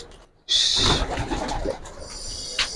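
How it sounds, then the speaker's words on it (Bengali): Pigeons in a home loft, with breeds such as silver bagha, khaki and gola kosha, give close, soft cooing that follows a sudden loud rustling burst, with low murmuring calls continuing after. "কবুতর গুলো উঠতে থাক"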